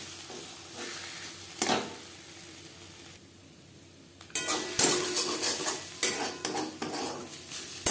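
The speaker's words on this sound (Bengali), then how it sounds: "নাড়াচাড়া করে নেব যতক্ষণ না পর্যন্ত কড়াই থেকে পুরোপুরি আলাদা হয়ে আসে" Taro leaf paste being stirred in a pan over a low to medium flame, with repeated scraping and clinking of a spoon against the metal pan, loud bursts between quieter stretches, close up and with no voices.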